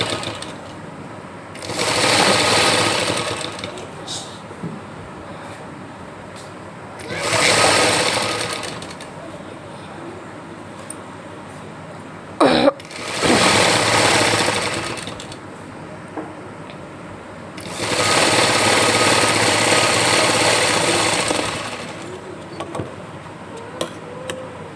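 Sewing machine stitching a gents nekar, running in four distinct loud bursts of rapid mechanical whirring separated by quieter pauses with light handling clicks.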